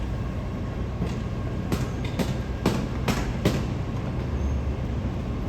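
A Croton-Harmon bound Metro-North train rolls past on track 4, its wheels striking rail joints in a series of sharp clacks over a constant rumble, fairly close.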